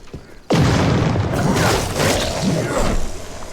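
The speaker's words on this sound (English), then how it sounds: "Whoa! Grenade!" A grenade blows up in the top-down roguelike DDoD: a sudden loud, close blast erupts into a heavy, rumbling roar that lingers for several seconds.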